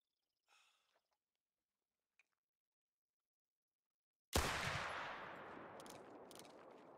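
A single .45-70 rifle shot in the hunting game theHunter: Call of the Wild, fired from 200 yards away, sounds as one sharp loud crack with a long rolling echo after near silence and a faint breath.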